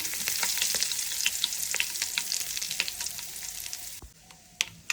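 Curry leaves and asafoetida powder crackle and sizzle in hot oil while sambar is being made, a dense close frying hiss with sharp pops throughout that thins out near the end.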